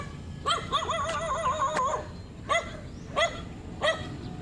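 A dog barks nearby: first a long, wavering yelping howl, then four single sharp barks spaced about a second apart over a low outdoor background.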